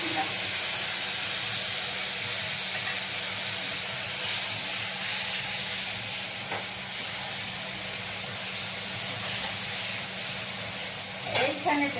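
Ginger and chili paste with ground coriander sizzles in hot oil, a steady dense close-up hiss throughout, with someone speaking over it and a brief clatter of stirring near the end.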